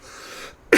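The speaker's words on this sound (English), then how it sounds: "Coughs." One sharp, loud cough bursts out close by, following a softer breathy exhale.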